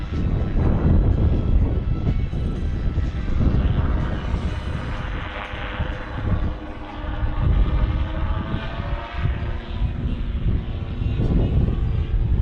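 A Calidus autogyro flies a display at the Weston Park Air Show, its engine droning loudly and fairly close with a rough, throbbing low rumble that holds steady while the aircraft hovers into a headwind.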